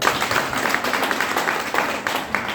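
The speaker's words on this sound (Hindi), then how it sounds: "ताली बजा दो साहब।" An audience claps together in a hall, a dense and even patter of many hands, moderately loud and sustained without speech over it.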